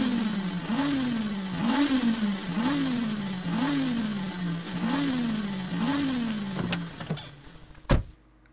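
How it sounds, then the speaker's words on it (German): In the Willy Werkel car-building game, an underpowered car engine revs in repeated rising surges, about six strained pulls in a steady rhythm, ending with a sharp clunk and then quiet. "Mensch, der Motor ist ja viel zu schwach."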